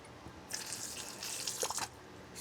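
Water splashes and runs down a gold sluice outdoors, a soft steady trickle and wash with a few brief gurgling bursts, fairly quiet and close.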